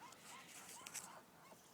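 A hen duck, the dominant bird of a backyard flock, gives a faint, brief honking quack around the middle of a quiet, hissy stretch with no one talking.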